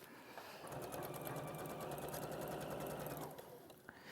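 A sewing machine stitching a fabric seam at 1 centimetre, running in a steady fast whirring hum for about three seconds before slowing to a stop.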